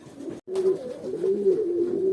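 Fantail pigeons cooing close by in a loft, with low throaty rolling calls repeating steadily and no talk.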